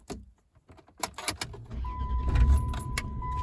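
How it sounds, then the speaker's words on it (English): Keys jangle as a key goes into the ignition of a 1991 Dodge Dynasty, then the engine cranks and catches into a steady idle, with a thin warning chime ringing over it. "me to take the key, put it in the ignition"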